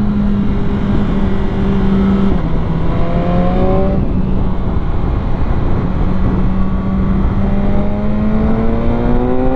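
A BMW S1000R motorcycle engine revs and winds up loudly and steadily, its pitch climbing and dipping through gear changes with a continuous roaring drone.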